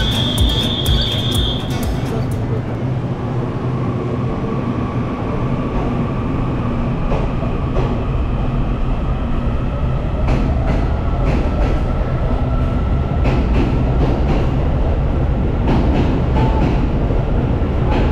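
Small train at Shifen station in Taiwan, a steady rolling rumble with rail noise that holds for the whole stretch, plus a brief high squeal near the start and scattered clanks.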